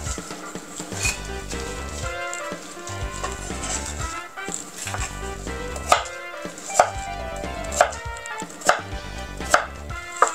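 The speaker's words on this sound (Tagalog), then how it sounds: "Hiwain nyo lang, balatan, hiwain." Knife chopping peeled Japanese yam on a cutting board, steady rhythmic thuds growing more distinct and sharper toward the end, close and fairly loud with no voices.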